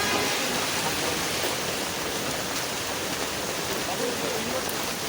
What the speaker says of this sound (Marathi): जोरात आलाय आता पाऊस.